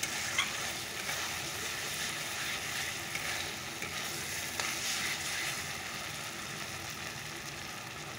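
Masala spice paste frying in oil in a home kitchen pan, a steady close sizzle with soft stirring scrapes running throughout, no voices.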